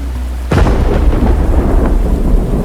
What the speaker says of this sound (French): Oh là, l'orage.